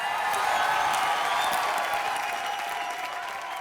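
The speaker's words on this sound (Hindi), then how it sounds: "जोरदार तालियां हो जाए इसकी मौत के लिए" Steady applause from a live audience at a stand-up comedy show, dense clapping filling the room at an even loudness throughout with no voices over it.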